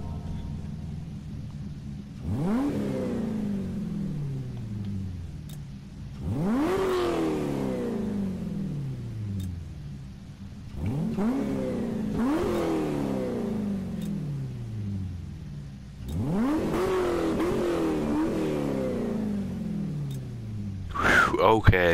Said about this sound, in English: let's hear this thing start up with the new Corvette engine.